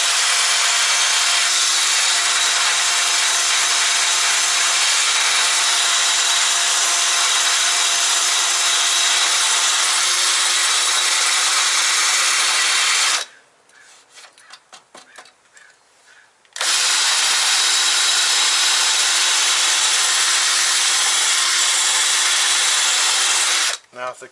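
A cone-shaped grinding wheel rasps steadily against sheet metal in a VW MK2 engine bay, a loud continuous power-tool whine that cuts out for a few seconds mid-way, then resumes at full strength until the end.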